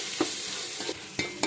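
Masala spices fry in a pan with a steady, close sizzle, broken by four short scrapes of a spoon stirring.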